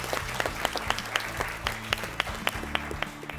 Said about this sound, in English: Ladies and gentlemen, please clap for them.